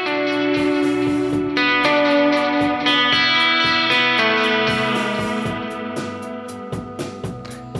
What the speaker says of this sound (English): And there's the electric guitar.